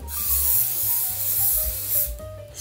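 Hair shine spray hisses from a can in a long, steady burst, close and loud, ending with a brief second spurt, with faint background music and no talking.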